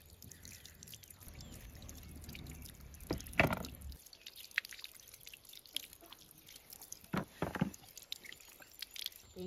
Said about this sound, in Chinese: 把这洋芋洗一下